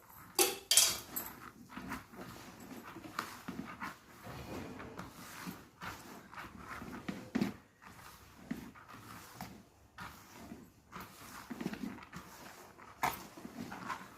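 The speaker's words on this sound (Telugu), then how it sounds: "ఒక స్పూను పసుపు ఒక పావు నూనె అన్నానికి మంచిగా కలుపుకోవాలి" A spoon scrapes and clinks against a vessel while mixing turmeric and oil into cooked rice for tamarind pulihora, in irregular bursts of stirring with short pauses, close and moderately loud.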